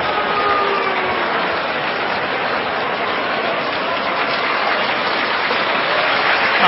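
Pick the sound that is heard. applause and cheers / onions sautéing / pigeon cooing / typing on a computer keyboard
applause and cheers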